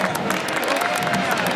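A sold-out stadium crowd at a Marshall football game roars and cheers in a continuous broad wash, fairly loud and distant, with a voice talking over it.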